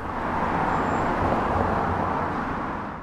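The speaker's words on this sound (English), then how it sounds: "Now it becomes a lot clearer which car was making the sound" A car drives on a road, producing a steady broadband roadway rumble and tire noise that stays close and even throughout, with no voices.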